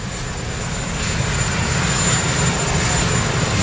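Steady aircraft engine roar outdoors in cold weather before people board a helicopter, a broad continuous drone with a faint high whine, loud and unbroken throughout.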